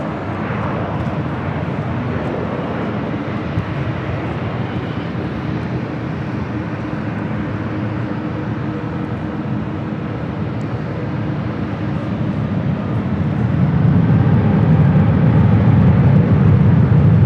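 Heavy airliner taking off on runway 24 left at LAX, a loud continuous jet engine roar that holds steady and then swells louder toward the end, with no voices.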